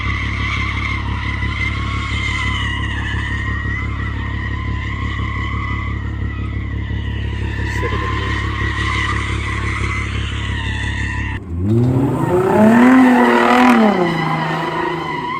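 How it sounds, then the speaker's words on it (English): Car tires squeal in a burnout, a loud sustained screech over a droning engine, then a sharp rise in engine revs and rising, wavering tire squeal near the end. "How to waste your tires."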